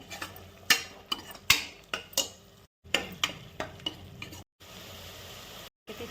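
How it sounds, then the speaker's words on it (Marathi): Turmeric, red chili and spices fry in oil for biryani with a crackling sizzle, broken by repeated sharp scrapes and clinks of a spoon against the pan. The stirring comes in uneven bursts with short gaps, and there is no talk. "लाल मिरची छान परतून घ्यायची मसाले पण त्यात फ्राय होतील तेल सुटेपर्यंत"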